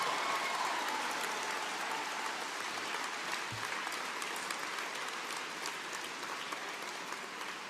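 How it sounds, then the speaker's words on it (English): Supporters and caucus members at a political gathering applaud steadily, a distant, fairly quiet wash of many hands clapping with a brief low thump partway through. "And while we're applauding"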